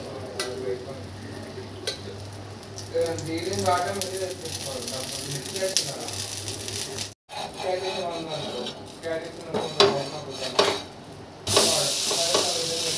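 Spongy dosa batter made with fenugreek and chana dal sizzles in oil on a hot pan, a steady close hiss with scraping and clattering of a utensil, swelling brighter near the end.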